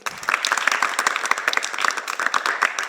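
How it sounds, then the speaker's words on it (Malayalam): Lively clapping from a children's audience at a Christian gathering, a crisp burst of many hands with distinct individual claps standing out, sustained and fairly loud from start to finish. "ഓക്കെ, മകൾക്ക് നല്ലൊരു ബിഗ് ക്ലാപ്പ് കൊടുത്തേ."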